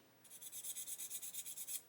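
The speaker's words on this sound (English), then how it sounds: "I'm using a narrow sanding stick on purpose." Narrow sanding stick rubbed back and forth over a plastic sprue gate on a 1/8 scale Porsche 917 model kit, about a dozen close, even rasping strokes in steady rhythm with no talking.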